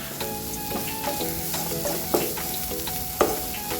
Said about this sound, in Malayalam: പിന്നെ കുറച്ച് കരിവേപ്പില ഇട്ട് കൊടുക്കുന്നുണ്ട്